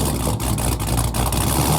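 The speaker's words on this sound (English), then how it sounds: "If you ever heard this car just sitting there idle," A cammed Honda engine with long tube headers and a straight pipe exhaust idles, giving a loud, rough, continuous rumble with a choppy, lumpy pulse, close up and without talk.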